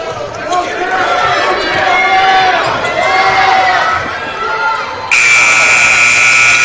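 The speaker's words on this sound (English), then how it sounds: "Shot does not go in by Core at the buzzer." A loud, sustained electronic buzzer blares over the roar of a high school boys basketball crowd and squeaking sneakers, cutting in abruptly near the end.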